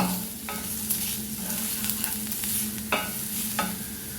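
Chicken filling with Kashmiri chilli powder is stirred in a pan over a low flame, giving a soft steady sizzle under repeated scraping strokes of a spoon against the pan, close and alone.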